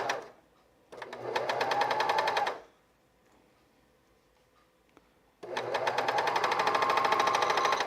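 Two bursts of rapid, steady stitching from a sewing machine working on a fleece half zip sweater, separated by a quiet gap, close and fairly loud, with no talking.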